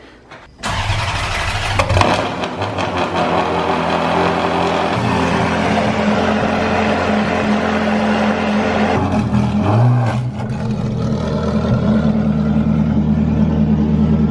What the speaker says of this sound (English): we got the Ferrari and Maserati out of the way along with Anthony's AMG